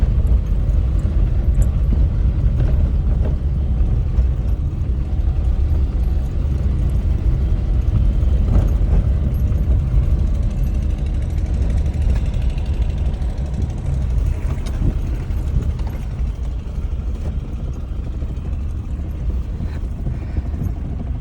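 A Ford car engine runs steadily on its own without the accelerator, a constant low rumble with a faint rhythmic knock throughout, no voices.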